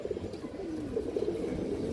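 Silver makra pigeons on a farm give a low, throaty, rolling coo, close and steady, against faint background noise.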